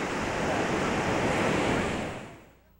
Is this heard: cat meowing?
no